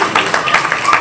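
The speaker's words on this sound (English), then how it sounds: "I'd like to give these individuals a big round of applause" Brief, irregular claps from an audience at a youth diversion summit in Madison, Illinois, greeting standing staff members, heard as sharp, close bursts of applause over roughly a second.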